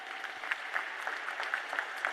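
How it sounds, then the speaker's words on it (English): Sustained applause from a crowd at a school valedictory ceremony, a steady wash of clapping with a few sharper individual claps standing out. "all of you teachers deserve a huge round of applause."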